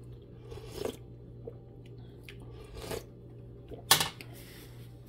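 Chewing while tasting chicken vegetable soup made with rotisserie chicken and zucchini: soft, close, irregular crunchy bites and mouth sounds over a low steady hum, with one sharper crunch near the end.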